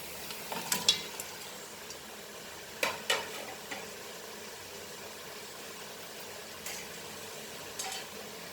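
Boiled mutton being stirred in a pan for Kolhapuri mutton sukha, a quiet background sizzle broken by several sharp spoon scrapes and clinks in short bursts.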